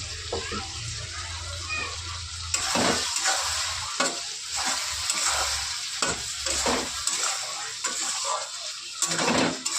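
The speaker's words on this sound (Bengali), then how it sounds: "এবার মশলাটাকে ভালো করে কষিয়ে নেব।" Ground spice paste of tomato, green chili and ginger frying in oil in a pan for papaya ghonto, a steady sizzle broken by repeated scraping stirs, close and moderately loud.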